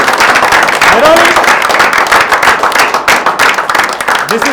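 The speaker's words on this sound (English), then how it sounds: "Give her a round of applause, Nirali, ladies and gentlemen" Audience at a live magic show claps and applauds loudly and steadily through the whole stretch, a dense wash of hands with a few brief voices rising over it.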